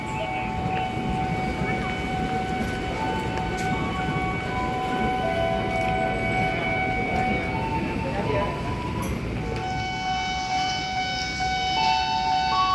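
A Jakarta KRL electric commuter train passes at night, giving a steady, continuous rumble with sustained whining electric tones layered over it. The whine shifts in pitch partway through.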